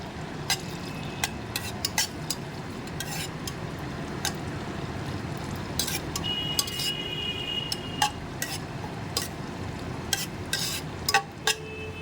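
A bay leaf and whole garam masala sizzle in hot oil and ghee in a pan for prawn pulao, a steady low crackle broken by sharp utensil clinks and scrapes against the pan, with no talk.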